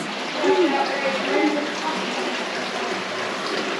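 Water fills a deep cavern pool beneath a metal grate on a show-cave tour, heard as a broad, steady wash of water sound with faint voices mixed in.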